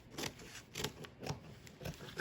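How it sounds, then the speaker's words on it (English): A pair of scissors snips through doll dress fabric and its paper pattern in a steady rhythm of about five crisp, close cuts, with no talking. "we're just gonna go ahead with a good pair of scissors"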